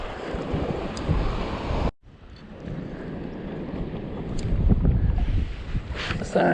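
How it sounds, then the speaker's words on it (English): Wind gusts over open water on coastal fishing flats, roaring close against the microphone with a soft wash of water beneath, briefly cutting out, then building again. "So, wind behind me, currents behind me."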